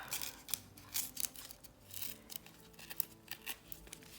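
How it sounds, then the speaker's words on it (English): Paper torn by hand for an autumn-themed digital collage snippet roll, heard as a series of short, close, crisp rips and rustles in uneven bursts with quiet gaps between them, no talking. "So I will tear this here. And then I will tear on the top."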